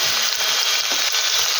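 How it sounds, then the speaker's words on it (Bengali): Onions fry in hot oil with a steady, bright, crackling hiss, close up and continuous. "পেঁয়াজটা একটু ভাজা ভাজা করে"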